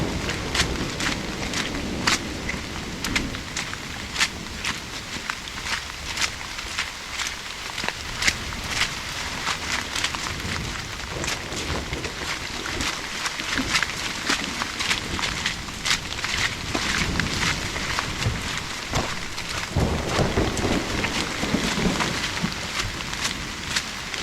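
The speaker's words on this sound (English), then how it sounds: "I know it's raining rather hard" Heavy rain pours steadily on rocks and flooded ground during a thunderstorm, with a dense continuous hiss, close drips and occasional low rumbles of thunder, and no talk.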